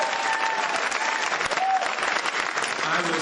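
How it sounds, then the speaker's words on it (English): Audience applause at a Tim Kaine political rally in Daytona Beach, Florida: a dense, steady crowd clapping that continues without break, with faint voices mixed in. "Give him and everybody at Daytona State a big round of applause"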